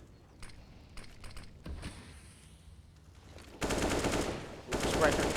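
Sustained AK rifle fire in a tactical shooter esports match, a dense rapid burst of shots starting partway in and continuing loud to the end after quieter game sounds.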